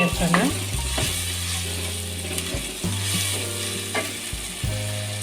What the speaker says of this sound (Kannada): ಶುಂಠಿ ಬೆಳ್ಳುಳ್ಳಿ ಪೇಸ್ಟ್ ಹಾಕಿ ಸ್ವಲ್ಪ ಕೈ